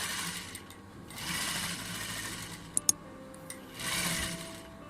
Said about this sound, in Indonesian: kita jahit dulu